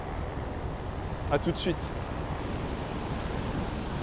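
Ocean surf breaks along the Maine coast as a steady, wind-blown roar of waves, with a brief spoken phrase heard over it partway through.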